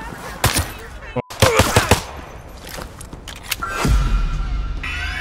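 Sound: gunfire in a video game

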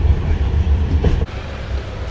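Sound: Janmabhoomi Express train running

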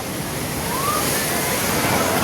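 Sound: rough sea waves surging on the beach

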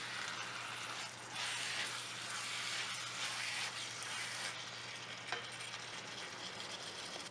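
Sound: minced meat (keema) frying over high heat

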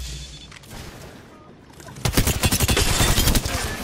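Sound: gunfire in the video game Apex Legends

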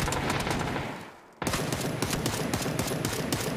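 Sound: gunfire in a PUBG video game match

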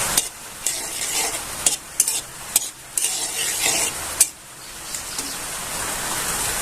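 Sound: cashews, almonds and peanuts frying in ghee

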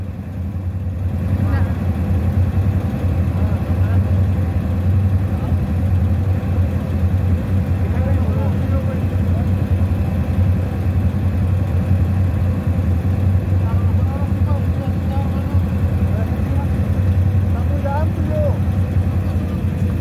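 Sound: motorcycle engine idling near a bridge over a river

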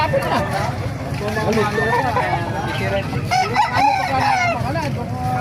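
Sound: rooster crowing

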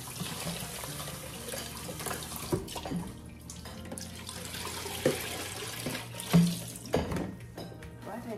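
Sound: running water washing herbs at sink

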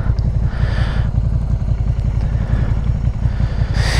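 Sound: 2019 Suzuki SV650X motorcycle riding

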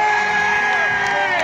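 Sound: audience applause and cheering

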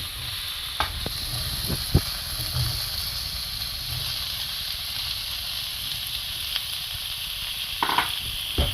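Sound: stirring fish head and bottle gourd in a pan

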